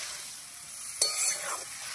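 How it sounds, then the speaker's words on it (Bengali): Spice paste and ground spices being stirred and fried in a curry pan for a spring onion and small fish dish, a soft continuous sizzle with one brief louder scrape and hiss of stirring. "গুঁড়ো মশলা বাটা মশলাটা দিয়ে একসঙ্গে এবারে অল্প অল্প করে কষাবো"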